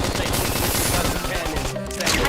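Rapid, repeated gunfire bursts sound in the Switch video game Xenoblade Chronicles X: Definitive Edition, loud and continuous, mixed with battle effects and in-game voices.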